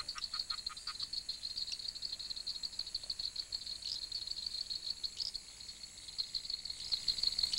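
A Lysapsis frog calls at night by a Paraguayan pond, its repeated high, trilling notes running steadily under a dense chorus of insects and other night calls.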